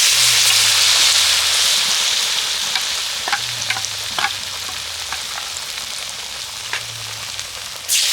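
Snacks fry in hot oil with a steady, dense sizzle, broken by occasional clicks and scrapes of stirring, close by and without talk.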